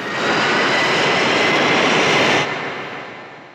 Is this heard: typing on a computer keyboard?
no